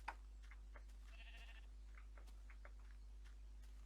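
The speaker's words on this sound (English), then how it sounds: "Come on, sheep, follow me." A Minecraft sheep gives a brief bleat amid faint ticking game sounds and a steady low hum, quiet and close.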